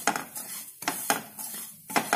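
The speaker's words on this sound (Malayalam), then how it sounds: "ഇനി നല്ലോണം ഇളക്കി കൊടുക്കാം." A utensil stirs ingredients roasting in ghee in a pan, giving several rhythmic scraping strokes with metallic clinks against the pan, close and moderately loud.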